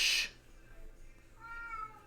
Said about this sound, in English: the cat talks more than me on the live stream